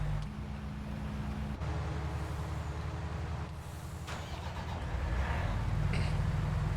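A combine harvester drives in Farming Simulator 19, a steady loud engine drone with low rumble and tonal hum throughout, rising slightly toward the end, alone without talk.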